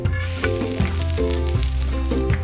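Ginger sizzling in hot turmeric oil for a banana curry sauce, a steady close frying hiss under a tonal hum with no voice.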